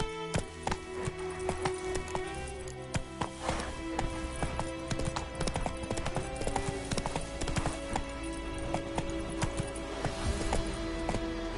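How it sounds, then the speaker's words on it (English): Horse hooves gallop in The Witcher 3 video game, a fast, continuous clip-clop rhythm that stays close and steady throughout, with occasional snorts and a faint voice in the background. "Run, Roach"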